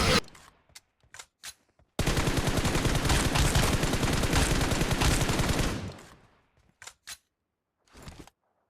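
Sustained rapid gunfire from a mobile shooting game's team deathmatch, a loud automatic burst lasting several seconds, framed by short single shots and clicks before and after.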